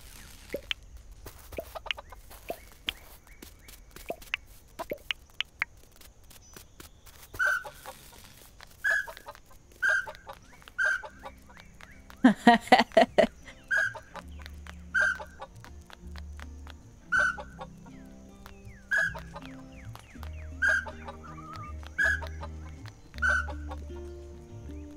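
Chickens in the Dinkum video game cluck and call in a steady series of short, evenly spaced bursts after a whistle summons them, with a tight flurry of rapid clucks midway; no one talks over them.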